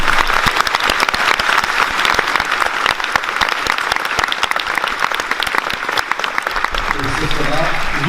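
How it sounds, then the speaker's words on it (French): An audience at a comics festival masterclass applauds manga artist Inio Asano with vigorous, continuous clapping from a large crowd, holding steady for several seconds before beginning to thin out at the end. "Je vous demande de le applaudir encore une fois"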